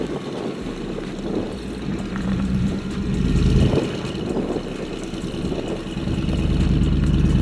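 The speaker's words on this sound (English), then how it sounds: "with the locker, the H2 confidently drives with a minor spin of 3 wheels" A Hummer H2 SUV crawls off-road with a locked differential and a little wheel spin, its engine droning steadily and swelling in places, loud and close, with no speech.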